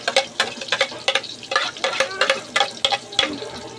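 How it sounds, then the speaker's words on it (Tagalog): Onion and garlic sautéing in a pan for chicken curry, with a steady sizzle broken by quick, rhythmic bursts of scraping as the mix is stirred, close and fairly loud. "Okay, magigisa na tayo ng sibuyas bawang."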